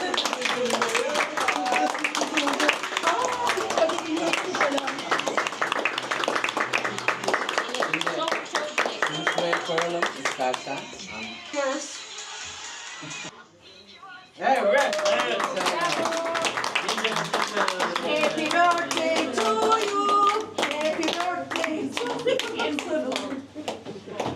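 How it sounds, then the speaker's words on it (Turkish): Guests at a January 2025 birthday celebration in Kadıköy, Istanbul clap in rhythmic bursts close by, pausing briefly midway before resuming, with people, including children, talking and calling out over the clapping. "Evet, alkışlıyoruz, alkışlıyoruz"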